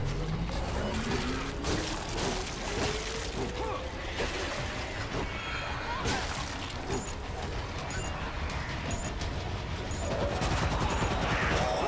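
Gunfire in the World War Z video game comes as a dense, continuous barrage of shots and crashes with a faint rising whine behind it.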